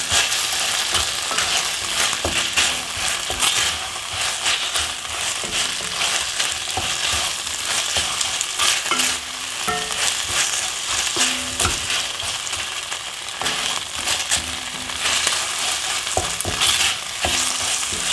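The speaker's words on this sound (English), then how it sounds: "Keep it all moving, stop it sticking in the pan." Sharwood's Szechuan noodles frying in a pan, a constant loud hissing sizzle with intermittent scraping and clattering as the noodles are stirred and moved around, alone without voices.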